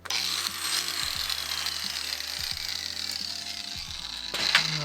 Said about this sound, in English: So we've got to cut a channel out of here so that the cam bolt can move in and out.